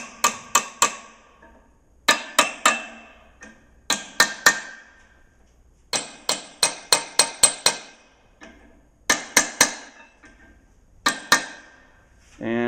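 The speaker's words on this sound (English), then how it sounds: "Just going to grab a hammer here and just tap this around" A hammer tapping a bearing into place on a Farmall Super H tractor under restoration, close metallic taps in quick bursts of two to five, ringing briefly, repeated over several seconds.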